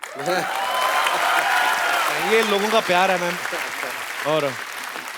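The studio audience of The Kapil Sharma Show applauds, a steady wash of clapping that runs throughout under someone speaking over it.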